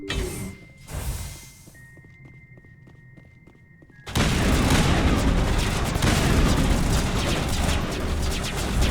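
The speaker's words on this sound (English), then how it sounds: "I don't know if I like this assault rifle. Shooting like that." Assault rifle fire in the video game Mass Effect Legendary Edition: after a quieter stretch of faint ticking, a dense, loud, continuous roar of rapid automatic shots and booms fills the rest of the clip.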